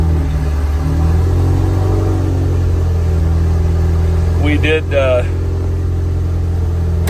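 A 1988 BMW E28 M5 engine runs with a steady low rumble and strong harmonic drone throughout, swelling slightly as it revs, while a person speaks briefly over it near the middle.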